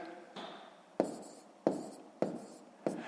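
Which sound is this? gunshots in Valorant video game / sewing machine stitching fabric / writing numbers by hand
writing numbers by hand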